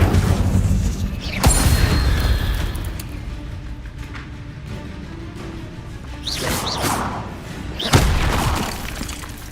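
Incendio fire spells cast in the video game Hogwarts Legacy, set in the Forbidden Forest: two or three sharp whooshing bursts with thuds over a low, steady game-ambience rumble.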